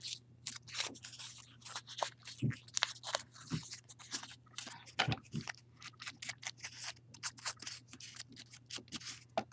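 Paper crumpled by hand to form paper flowers, giving bursts of close crinkling and crunching with short pauses between them, over a faint steady hum.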